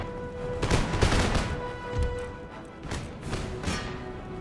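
Musket volleys from the Irish Brigade infantry in Empire Total War, several ragged bursts of crackling gunfire with booming thuds, rolling out over about four seconds at mid distance.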